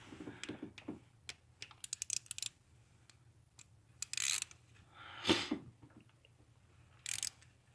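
A Hemi MDS solenoid is tightened down with a hand tool, producing quick bursts of ratcheting clicks and short metallic scrapes separated by pauses, close by and quiet, with no talking.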